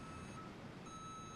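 A truck's reversing beeper sounds while the vehicle backs up, faint and distant, as a thin steady tone over a low wash of background noise.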